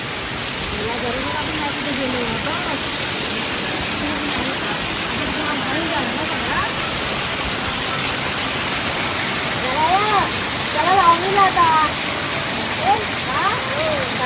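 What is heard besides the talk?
heavy monsoon rain and water flowing like a waterfall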